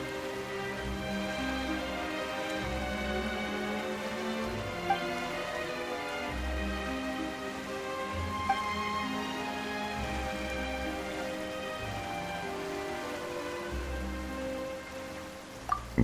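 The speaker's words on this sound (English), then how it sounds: "Why is it raining all of a sudden?" Steady rain pours in the Genshin Impact game world, a continuous even hiss of drops on surfaces with a soft musical score playing underneath and no one speaking.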